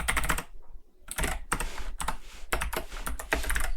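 Rapid typing on a computer keyboard, close and clear, in quick bursts of key clicks broken by brief pauses, with no talking.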